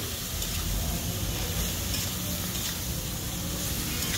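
Bitter gourd and potatoes frying together in a pan, a dense, close, steady sizzle with faint stirring, continuous and without talking.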